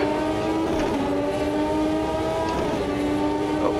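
A classic Formula 1 car engine in Automobilista 2 screams loudly and steadily, its pitch climbing and dropping through gear changes, close and continuous.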